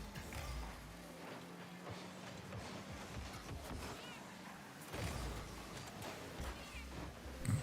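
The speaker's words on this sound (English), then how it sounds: "You guys got that fucking kitty engine noise." A cartoonish cat-like engine sound from a Rocket League car, a purring meow-toned drone running steadily through the clip amid game noise, with a louder swell near the end.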